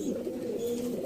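Pigeons kept for pigeon flying in Sialkot, a short soft cooing call close by, with no talk.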